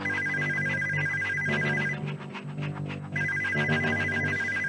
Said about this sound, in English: Ayyash awakes to a ringing phone.